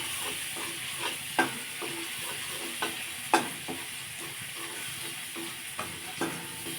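Garlic frying in a pan with a steady sizzle, interrupted by the sharp scrape and clatter of stirring strokes at irregular intervals, close by. No one speaks.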